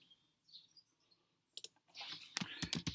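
A few crisp computer mouse clicks land close together after a faint high chirp, then a quicker cluster of clicks and clatter follows.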